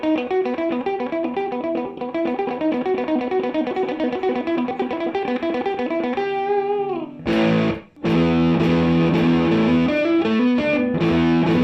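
A driven electric guitar, an Epiphone SG, plays a fast, continuous riff with a thick, gritty tone, then slides and shifts into heavier sustained chords.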